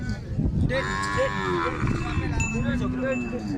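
A Sahiwal or Cholistani calf about 150 kg, for sale by live weight, gives a loud, close, drawn-out moo while people talk over it.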